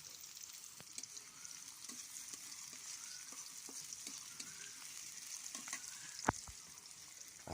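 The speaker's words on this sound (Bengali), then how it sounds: "এ পর্যায়ে পেঁয়াজ ভাজার জন্য একটু সময় নিতে হবে এবং বারবার নাড়াচাড়া করে দিতে হবে।" Onions fry with a steady, close sizzle in a pan over a very hot clay stove while being stirred, with scattered scraping clicks and one sharp knock near the end.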